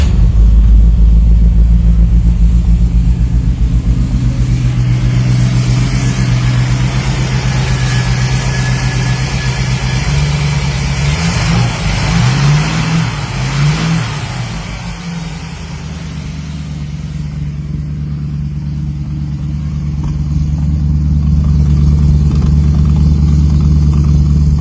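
A 1930 Ford Model A hot rod with a steel body and fiberglass fenders idles with a deep, loud rumble. Its engine revs up and down in the middle of the clip, then dips and settles back to a steady idle.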